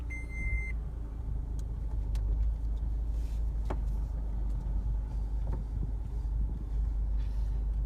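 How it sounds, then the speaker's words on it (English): Car being moved and driven a short distance, heard as a steady low engine and road rumble from inside the vehicle, with a brief electronic beep at the start and faint clicks. "Let me move the car real quick here."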